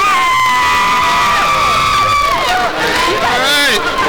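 A small group of fans shouts and whoops loudly up close to pump up their team before a game, overlapping excited voices rising and falling in pitch for a few seconds.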